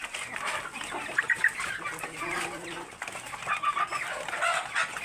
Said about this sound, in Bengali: এখানে সব ধরনের মুরগি খাবারটা খাচ্ছে দেখেন